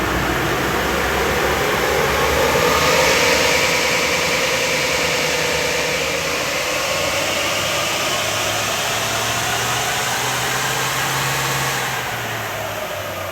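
A Toyota Hilux N80 engine revs on a tuning run, a loud, steady, rough mechanical roar that swells early, holds a rising pitch, then eases back toward the end.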